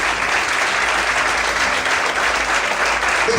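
A church congregation claps during a morning service, a dense, steady wash of many hands applauding at even intensity throughout, with no distinct voices standing out.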